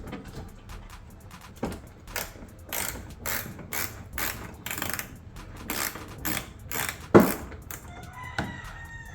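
A hand ratchet clicks in quick bursts while removing a 12 mm headlight bolt on a 2022-or-later Genesis G70, the repeated pawl clicks close and crisp, with a rooster crowing faintly in the background near the end.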